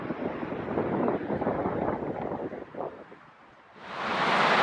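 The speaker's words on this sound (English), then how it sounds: "it's a little windy right now" Wind gusts roar steadily across a campsite, buffeting the microphone with broad rushing noise that dips briefly and then surges back louder, with no voices.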